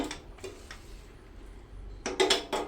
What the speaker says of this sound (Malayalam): ഇനി നമുക്ക് ഇത് എല്ലാം കൂടെ ഒന്ന് യോജിപ്പിക്കാം